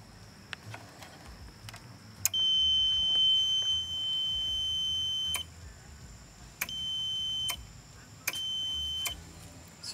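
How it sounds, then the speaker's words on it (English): A multimeter's high electronic continuity tone sounds in several sustained beeps of a second or more each while a switch is tested, separated by short gaps and sharp clicks, over faint background noise. "that way I can flip the switch, test it, and it beeps when it's working right"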